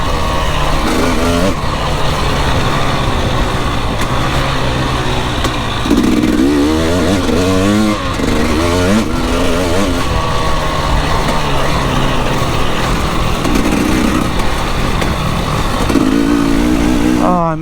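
An enduro motorcycle rides a rutted race track, its engine loud and close throughout, rising and falling as the throttle opens and closes, with a rider's voice audible over it.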